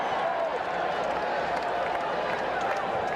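A baseball stadium crowd at the 1986 World Series between the Red Sox and Mets cheers in a steady, broad roar, with a commentator's voice talking over it.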